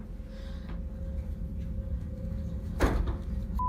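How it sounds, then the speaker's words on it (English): An indoor door is shut at home, heard as a single sharp thud near the end over a steady low background hum, otherwise quiet with no talking. "I've just shut door."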